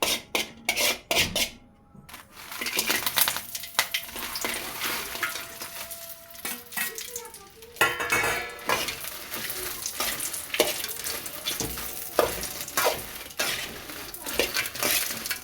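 Ingredients for mint chutney frying in a pan give a loud, continuous sizzle and crackle with stirring scrapes and occasional pan knocks, starting after a few sharp clatters.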